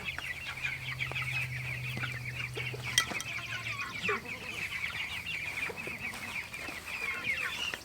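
Chickens cluck and chatter steadily nearby, a busy flock murmuring, with a brief low hum early on and a sharp knock partway through.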